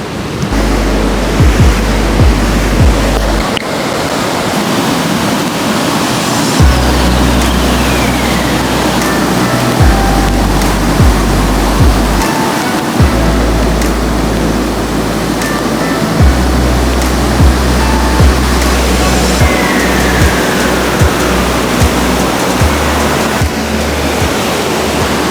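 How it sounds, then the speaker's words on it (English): Rough ocean surf crashes onto a shore in savage open-water swim conditions, loud and continuous, with repeated heavy low thumps of breaking waves and wind noise throughout. "I really tried to break through the waves that time"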